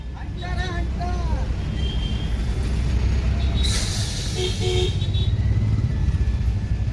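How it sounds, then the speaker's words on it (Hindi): Fully loaded trucks rumble past at the Sonauli border crossing between India and Nepal, a continuous loud engine drone with short horn toots and busy street noise close by. "बिल्कुल बॉर्डर पे ये जा रहे हैं ट्रक, सारे पूरे भरे हुए ट्रक"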